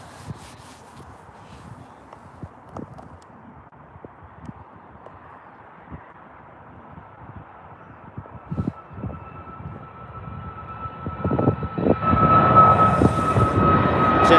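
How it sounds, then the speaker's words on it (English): A Jet2 jet airliner moving at Birmingham airport, a low rumble that grows steadily louder and nearer over wind noise, with a rising engine whine toward the end. "Here's our next jet now."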